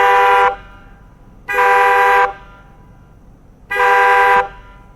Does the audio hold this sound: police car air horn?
yes